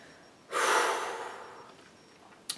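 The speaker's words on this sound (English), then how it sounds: "Take a nice deep breath before." A single deep inhalation taken just before playing a recorder, a clear breathy rush lasting about a second and fading out, alone and close with no talk.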